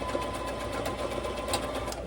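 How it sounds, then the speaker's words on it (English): A sewing machine runs steadily, stitching along the edges of a quilted patriotic pillow, with a continuous close whirring hum and no talking. "we're just going to sew along the edges."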